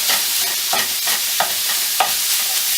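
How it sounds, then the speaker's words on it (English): Minced meat fries in a pan for keema matar while a spoon breaks it up: a constant sizzle with repeated scraping strokes of the spoon against the pan, close and fairly loud, no talking. "just break the mince up with the spoon"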